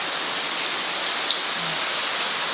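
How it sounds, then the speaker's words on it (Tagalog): Heavy, wind-driven rain pours down steadily in a dense, hissing wash, with a few louder drops striking a nearby door. "Malakas ang ulan."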